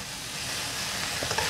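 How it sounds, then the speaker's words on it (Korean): Green onion and dried radish greens stir-frying in perilla oil make a steady, close, bright sizzle and hiss throughout, with faint stirring scrapes near the end. "들기름이 지금 들어갔어요. 살짝 어우러지게 한번 볶아줍니다."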